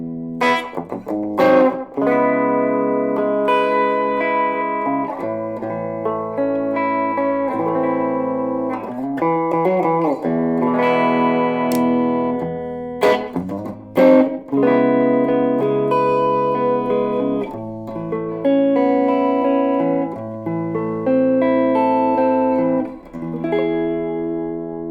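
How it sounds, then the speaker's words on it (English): An electric guitar from a beginner guitar and amp pack plays a clean tone with reverb through the amp, sustained chords and single notes ringing with tails between strums, alone and fairly loud. "Let's try the reverb with the clean."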